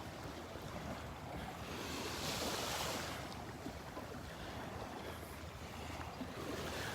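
Waves roll onto the beach at Delnor-Wiggins, a continuous broad wash of surf mixed with wind rumble on the microphone, steady and fairly loud with no voices.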